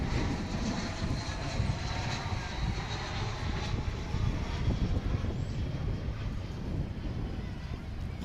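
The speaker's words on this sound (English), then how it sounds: "Here comes Volaris Flight 1892 from Guadalajara in Mexico." A Volaris airliner arriving at Dallas/Fort Worth Airport from Guadalajara, a broad steady jet engine roar heard from a distance through gusting wind noise, sustained for several seconds.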